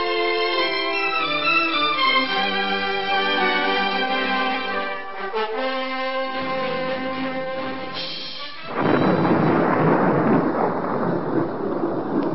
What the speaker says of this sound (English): Looks like we're in for a bad storm.